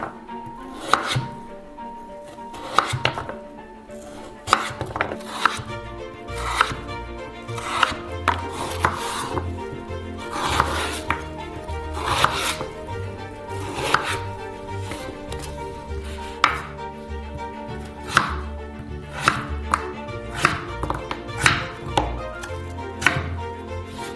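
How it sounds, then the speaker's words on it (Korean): Potatoes being chopped into medium sticks for fries: a steady run of sharp knife strikes on a cutting board, close and crisp, some quick and clustered, others spaced, over a low background hum. "중간 크기의 막대로 잘라주세요."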